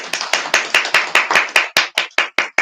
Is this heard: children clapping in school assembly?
yes